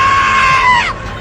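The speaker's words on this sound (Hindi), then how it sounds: "टैप में अचानक जोर से चीखने की आवाज़ सुनाई देती है।" Sudden loud scream from a horror tape, a single high, sustained shriek that drops in pitch and cuts off after about a second.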